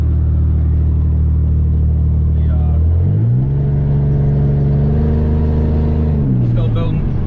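Pontiac Grand Prix GTP engine building boost as the car accelerates, a loud steady drone that climbs in pitch through the gears, with a shift around three seconds and another near six, running close and continuous throughout.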